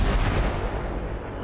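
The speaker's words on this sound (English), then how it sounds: "Oh shit, man. Everything blowing up." Explosions in the Fallout D.U.S.T. video game, a heavy booming blast at the start that rolls off into a dense, fading rumble of debris and echo, loud and close with no voices.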